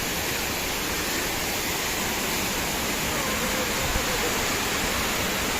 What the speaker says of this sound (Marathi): पाण्याचा धबधबा, ह्याला बोलतात धबधबा